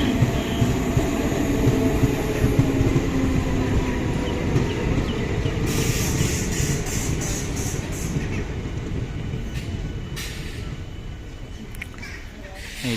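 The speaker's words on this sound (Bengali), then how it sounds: "এই হচ্ছে ট্রেন" A local ICF-coach train pulls into Anantnag station in cold Kashmir, its rolling rumble steady and close throughout, with a brief burst of brakes or horn partway through and some talk from people nearby.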